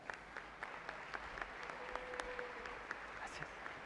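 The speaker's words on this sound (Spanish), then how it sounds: "les pido un aplauso para el padre Agustín de la Vega Sanzano" An audience applauds a priest, Padre Agustín de la Vega, at a talk, a steady wash of clapping with scattered sharper claps held at moderate level throughout.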